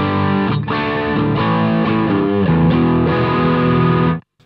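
Overdriven electric guitar through an amp, sustained gritty chords ringing continuously before cutting off abruptly at the end.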